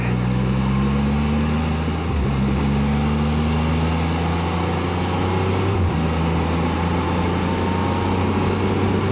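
A Can-Am Spyder three-wheeled motorcycle drones steadily at close range while riding, its engine note dipping and recovering at two distinct gear changes as the rider downshifts.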